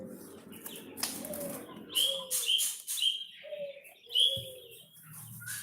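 A white-rumped shama sings clear, varied whistles and trills, some rising and some falling, with short pauses between phrases. It sounds fairly close and faint.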